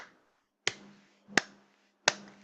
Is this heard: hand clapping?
yes